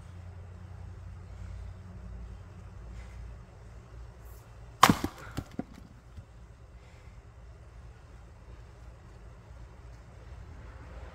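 A new Husky 8 lb splitting maul strikes wood outdoors: one sharp, loud impact followed by a couple of smaller knocks, set against faint wind and quiet surroundings.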